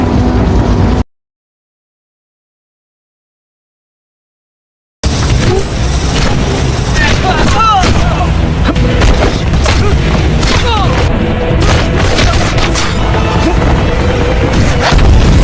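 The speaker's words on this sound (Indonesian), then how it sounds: "sebelum rudal tersebut jatuh dan meledakkan tempat ini" A missile explodes in an Indian action film: after a second of noise and a few seconds of dead silence, a loud boom bursts in and rolls on as a dense, crackling blast with scattered debris.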